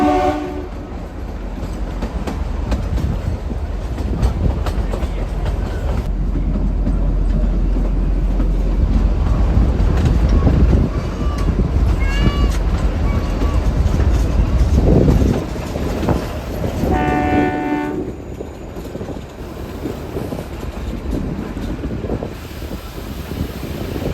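The heritage toy train running from Shimla to Kalka through pine forest rumbles steadily from on board, with rail clatter, wind buffeting and a couple of short horn blasts partway through.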